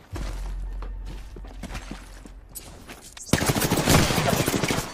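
Gunfire in the battle royale game Apex Legends: scattered shots and impacts over a low hum, then a sudden loud, rapid burst of automatic fire that dominates the final seconds, with no one talking.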